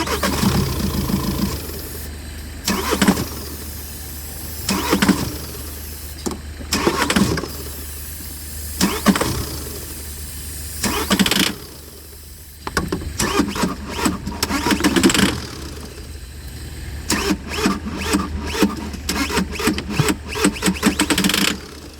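A Volkswagen Golf engine with an oil-pump problem cranks in repeated bursts, its starter whirring for a few seconds each time with gaps between, before a longer run of rapid chugging, recorded up close.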